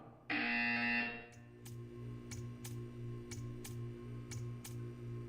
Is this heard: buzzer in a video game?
yes